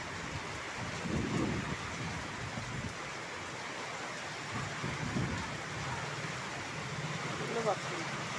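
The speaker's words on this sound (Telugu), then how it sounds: "వాన పట్టింది అసలు" A sudden heavy rain shower pours steadily as a dense hiss on a street where auto-rickshaws have stopped, with low thunder rumbles and a voice talking over the downpour.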